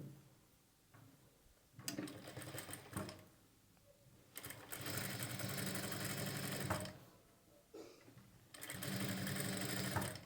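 A sewing machine stitching thread piping onto the neck lining of a blouse, running in short, faint bursts with quiet pauses between them.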